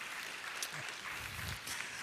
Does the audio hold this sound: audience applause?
yes